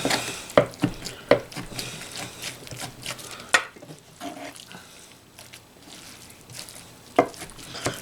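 Cooked beef being chopped into chopped beef for barbecue, with a few sharp, separate knife strikes spaced irregularly over a quiet kitchen background.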